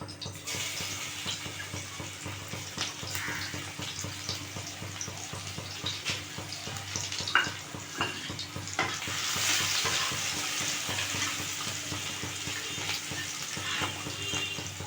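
Crushed garlic frying in a pan for a mankochu and dried fish curry, with a steady, close sizzle and crackle along with occasional stirring and scraping.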